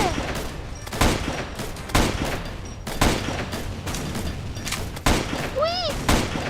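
Rapid bursts of gunfire crack out repeatedly in a Roblox zombie survival game, sharp shots recurring roughly every second over steady game noise, with a player talking in French around them.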